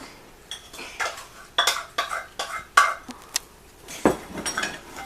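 Metal whisk scraping and clinking against a bowl while stirring no-cook playdough, a series of distinct knocks and scrapes in an irregular rhythm, close and clear.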